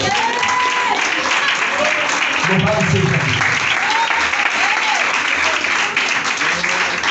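A congregation in a church service applauds loudly and steadily, many hands clapping together while voices call out over the clapping.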